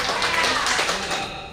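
Brief burst of clapping from a laughter club gathering at a birthday celebration, honoring the president's speech, a dense patter of hands that fades toward the end.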